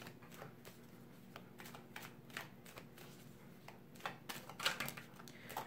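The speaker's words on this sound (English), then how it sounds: "Quick shuffle." Tarot cards are shuffled quickly in a dense flurry of soft riffling snaps that grows busier toward the end, close up with no talk.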